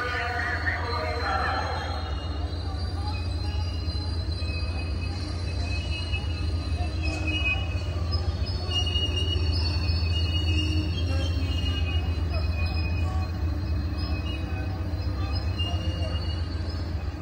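A steady low rumble of an Amtrak Coast Starlight passenger train rolling along the track at Oakland Jack London Square station, continuous throughout, with faint squeals and clatter on top.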